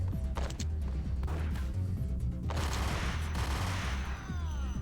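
Scattered bursts of enemy gunfire in a Max Payne–style shooter game, sharp cracks and thuds overlapping with crashes and background game sound, fairly continuous and dense across the moment.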